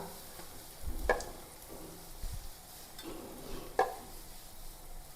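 Chili powder stirred into frying ginger, garlic and green chili for a sardine pickle, with a low steady sizzle and two distinct spoon scrapes against the pan, close by.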